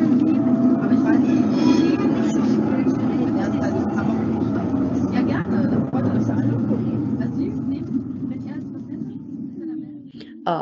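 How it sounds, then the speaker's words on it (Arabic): A city tram rumbles past loud and close with a heavy, continuous rolling roar on the rails, and a brief bell tone sounds near the end. "الجرس ده بيكون بتاع الاشتراسنبان"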